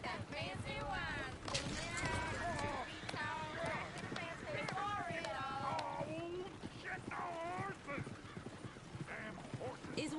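A horse-drawn coach in the Red Dead video game rolls past with hooves clip-clopping under busy overlapping character talk and singing, the hoofbeats steady beneath the voices.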